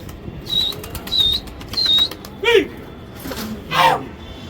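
A red-banded checker pigeon of the Hyderabad breed beats its wings in about five short, close bursts of flapping spaced fairly evenly apart, with faint high chirps between them.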